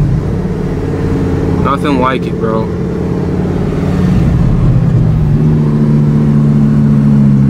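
A 1000HP twin-turbo Lamborghini drones loudly from inside the cabin in city traffic, its engine note climbing and settling through shifts, with someone talking over it.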